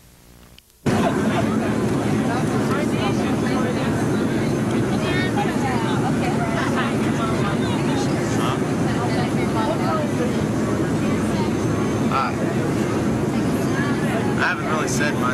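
Airplane cabin noise in flight over the Alps, a loud constant engine roar and hiss that starts abruptly after a moment and continues steadily, with faint voices murmuring underneath.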